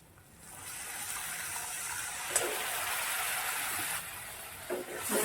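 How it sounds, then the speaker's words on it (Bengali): Water poured into a pan of spice paste with chili powder and Kashmiri chili for a tilapia fish curry, a soft continuous splashing gush lasting several seconds, fairly quiet and close, with a faint clink near the end. "জল দেবো"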